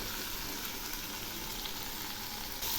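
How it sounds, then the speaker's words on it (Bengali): Vegetables fry in oil over low heat for a Bengali fish curry, giving a steady, close, broadband sizzle that runs evenly throughout with no talking. "সবজিগুলো ভাজা প্রায় হয়ে এসছে।"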